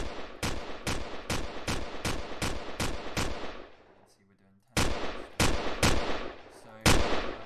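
Simulated gunfire from a test weapon in a survival video game kit: about ten loud, evenly spaced shots crack out in quick succession, then a brief near-silent pause, then another run of sharp, widely spaced shots.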